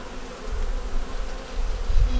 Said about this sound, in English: Got little worker bees coming in with pollen,